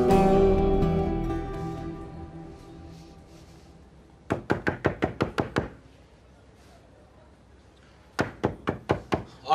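Two bursts of rapid, loud knocking on a door, each a run of about eight sharp raps, come after a fading low rumble, with a pause between the bursts.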